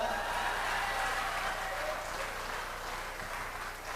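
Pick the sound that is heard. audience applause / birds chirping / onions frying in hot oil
audience applause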